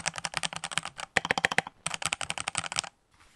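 Mechanical keyboard being typed on in fast, continuous bursts of clicky keystrokes, close and fairly quiet, with a brief pause midway and a few louder spacebar-like hits, no voices.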